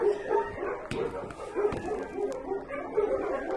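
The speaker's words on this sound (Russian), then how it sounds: "А здесь вот какие красивые собачки" Several dogs in a grim place bark, yip and whimper close by in short overlapping bursts, with a person talking over them.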